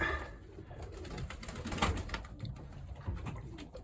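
Pigeons coo in a loft where young squabs are kept, soft throaty calls repeating under steady background rustle, moderately close and fairly quiet.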